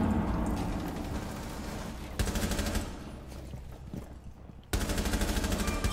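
Automatic rifle fire in Rainbow Six Siege, a loud close burst of rapid shots with heavy recoil, pausing briefly before two more sustained volleys, with no voices over the shooting.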